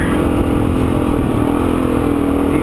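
A dual sport motorcycle rides through a deep sand wash at Camp Creek, Arizona, its engine holding a steady, continuous drone with a low rumble and a faint whir on a constant throttle, loud and close throughout.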